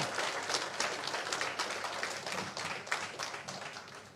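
An audience at a Constitution Day event in Tamil Nadu applauds to welcome the Governor, with steady, dense clapping filling the whole stretch at a moderate, slightly distant level.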